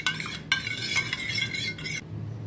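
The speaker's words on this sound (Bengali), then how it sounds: "দুধের সাথে ভালো করে গুলে নেব আটাকে।" A spoon stirs flour into a small amount of milk in a bowl, making quick, close scraping and light clinking strokes in a steady rhythm for about two seconds before stopping, with no talking.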